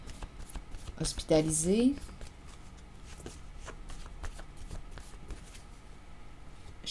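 Tarot cards are shuffled and handled during a reading, a brief burst of rustling and flicking close by, while someone speaks in French over soft background noise.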